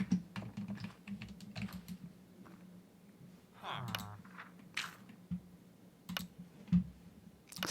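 Rapid mouse and keyboard clicks while crafting in modded Minecraft, crisp close taps in irregular bursts with short pauses and a low steady hum underneath.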